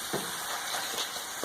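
Sloppy joe meat mixture with Worcestershire sauce sizzles softly in a pan, a faint, steady hiss with a couple of light stirring scrapes.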